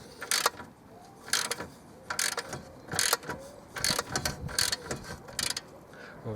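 A ratchet wrench loosening a track rod end nut on a 2007 BMW E91 335i, giving repeated bursts of close metallic clicking in a steady rhythm with short pauses between strokes.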